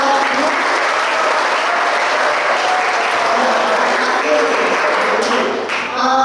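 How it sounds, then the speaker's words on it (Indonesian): Dense, loud applause from an audience at a youth talk show in Bengkayang fills the space evenly for several seconds, with a voice and some crowd noise rising just before it ends. "terima kasih tepuk tangan"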